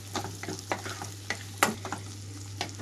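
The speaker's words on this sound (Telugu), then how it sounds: "లో ఫ్లేమ్లోకి టర్న్ చేసుకొని పచ్చిమిరపకాయలు, ఉల్లిపాయలు వేసి వేయించుకుంటున్నాను." Green chillies and onions fry in oil over a low flame, with a quiet sizzle broken by a series of sharp spoon scrapes and clacks against the pan, plus a steady low hum and no speech.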